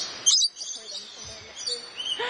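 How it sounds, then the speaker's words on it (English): Rainbow lorikeets chirp in short, bright bursts at a feeding zone in an aviary bird park, one sharp call near the start and fainter scattered chirps after, with faint voices in the background. "These are actually rainbow lorikeets. So this is their feeding zone."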